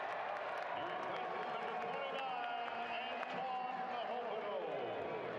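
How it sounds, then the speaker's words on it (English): A stadium crowd at a Louisville City FC soccer match cheers and roars as the home captain returns. The swell is sustained and distant, and a commentator talks over it. "Louisville's captain returns, and the crowd erupts."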